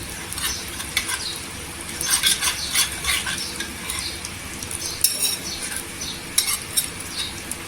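Cumin seeds sizzle and crackle in hot oil with a pinch of asafoetida while green chillies are readied, and a spoon stirs with steady frying hiss and occasional metallic scrapes close by.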